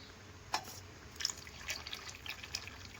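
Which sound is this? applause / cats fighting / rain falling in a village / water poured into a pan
water poured into a pan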